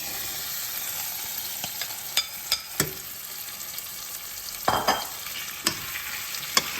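Northern beans stew being stirred in a pot, with a steady soft sizzle underneath and scattered scraping clicks and clanks of the spoon against the pot, close and fairly quiet.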